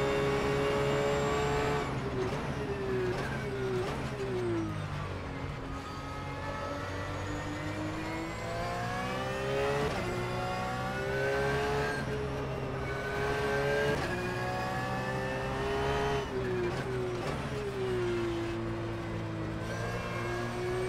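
A Porsche GT3 race car engine in rFactor 2, a loud, continuous howl that climbs and drops through repeated upshifts and downshifts, heard close from the cockpit with no talk.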